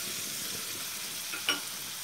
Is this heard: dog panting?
no